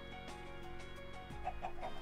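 A chicken in a video game gives soft, scattered clucks over a steady low game ambience, quiet and alone.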